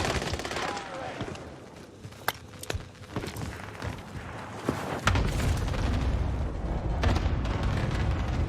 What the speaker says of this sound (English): I'm just gonna airstrike the building.